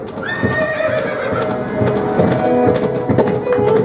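A voice mimics a horse neighing inside a stable, a shaky whinny with hoof-like clip-clop taps underneath, fairly close and steady throughout.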